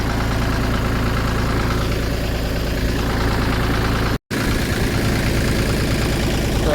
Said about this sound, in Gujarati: દેશી દરવાજો ખોલીને ટ્રેક્ટર લાવશું આપણે અંદર.